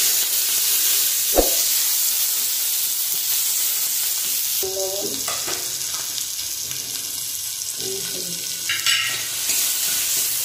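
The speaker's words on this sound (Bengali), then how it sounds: "যদি কড়াইশুঁটিগুলো আমি ভাজবো কাঁচা লঙ্কা, রসুন, পেঁয়াজ, কালো জিরে দিয়ে দেবো" Green peas frying in a wok with green chili, garlic, onion and nigella seeds, a steady loud sizzle and hiss throughout, punctuated by a few sharp clinks and scraping strokes of a stirring spatula, without speech.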